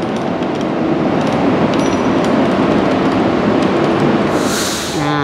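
Train noise at a station platform just after stepping off, a loud steady rumble and hiss of the rail cars running throughout, with a brief higher whoosh near the end.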